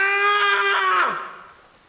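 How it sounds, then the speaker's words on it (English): A man lets out a long, loud, pain-filled scream in an audio drama, a sustained strained cry that bends downward and breaks off into a fading gasp. "he let out the most pain-filled scream I have ever come across"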